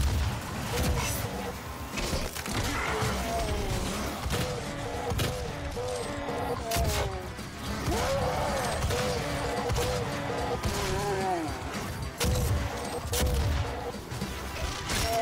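Rapid bursts of gunfire and heavy impact booms from a Doom SnapMap level fill the mix continuously, loud and layered, while a player talks over the action at times.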